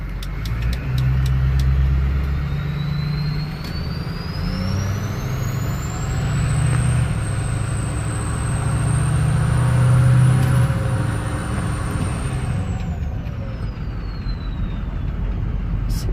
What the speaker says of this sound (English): we let the truck warm up a little bit before I take it out